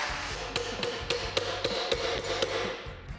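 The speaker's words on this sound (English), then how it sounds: "make a little dolly tool that we can hammer the thing back into shape with" A hammer strikes a dented car panel backed by an improvised dolly tool, about a dozen sharp metallic blows in an uneven steady rhythm, close and loud with no talking.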